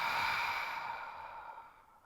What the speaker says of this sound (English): An open mouth exhale to clear.